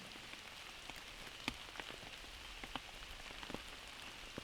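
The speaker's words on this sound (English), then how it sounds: "Our hunt was cut short because of the rain." Steady rain patters on a surface, with scattered louder drops tapping now and then; no voices, just the continuous wash of rainfall.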